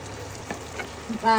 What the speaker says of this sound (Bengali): এখন পেঁয়াজটা ভাজাভাজি করো